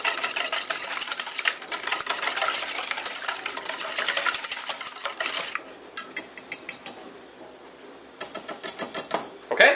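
Two eggs beaten by hand with a whisk in a bowl, a rapid, steady clatter of wire against the bowl in quick bursts with brief pauses, close and fairly loud.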